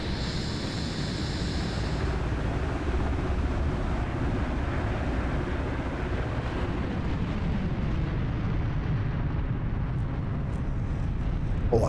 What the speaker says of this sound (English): E2D starting up behind us